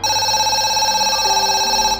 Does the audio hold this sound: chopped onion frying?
no